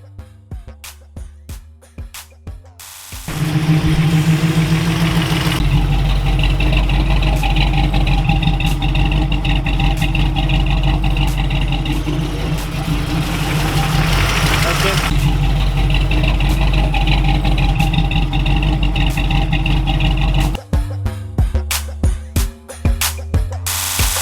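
A freshly finished 383 engine built for a C/10 truck starts and settles into a loud, steady, rumbling idle close by, running for about seventeen seconds before shutting off, with talking before and after.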